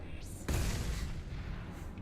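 An explosion in the video game Mass Effect 2: a deep boom breaks out suddenly and rumbles on loudly for over a second before fading, with no talking.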